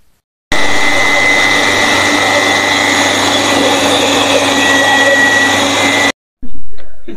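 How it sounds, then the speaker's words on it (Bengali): An electric drilling machine boring holes for bathroom drain pipes runs at a steady loud whine for about six seconds, then cuts off abruptly and briefly restarts near the end. "আর এই হোলটা করবো আমরা এই মেশিন দিয়ে।"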